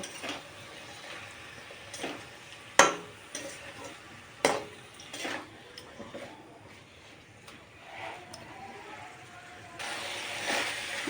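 Mushrooms and spring onions frying and being stirred in a pan, with soft sizzling broken by sharp clinks and scrapes of a utensil against the pan, and a louder burst of sizzle near the end.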